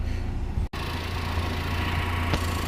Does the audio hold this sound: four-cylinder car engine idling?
yes